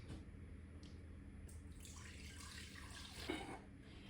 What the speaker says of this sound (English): I'm just gonna pour the milk right directly in